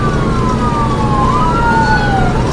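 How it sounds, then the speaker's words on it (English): An ambulance siren wails close by in traffic, its sweeping tones gliding up and down over a steady, loud rumble of road and engine noise. "It's an ambulance."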